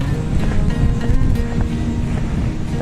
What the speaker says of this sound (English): It's quite breezy.